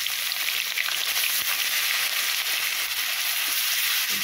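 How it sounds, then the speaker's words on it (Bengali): Onion paste fries in a pan with hot oil, giving a continuous, even sizzling hiss that holds steady from start to finish with no voices. "পেঁয়াজ বাটাটা দিয়ে একটু হালকা করে কষিয়ে নেব।"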